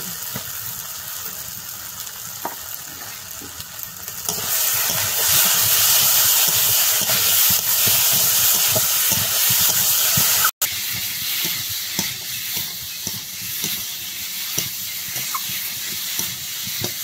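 Potatoes go into a pan of fried spice paste for an aam shol fish curry, setting off a loud, sudden, steady sizzle and hiss that continues close up without any talk.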